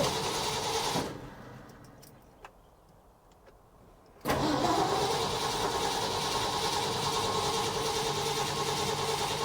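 Car engine with a fuel supply or spark problem struggling to start: a steady mechanical drone, a sudden quiet stretch with faint clicks, then an abrupt loud roar of the engine catching and running steadily at close range.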